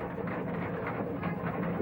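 Indonesian steam rack locomotive of 1974 carrying village children along its line, a busy continuous mechanical rumble and clatter of running gear on the track, close and steady throughout.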